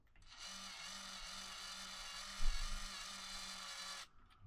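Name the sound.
power tool tightening bolts on fat bike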